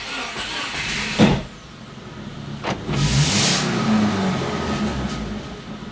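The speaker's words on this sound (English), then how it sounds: "So now we're going to start the car with the holes in the exhaust." A Subaru with holes in its exhaust starts with a loud burst, then idles with a rough rumbling note and rises briefly in a rev; no one speaks.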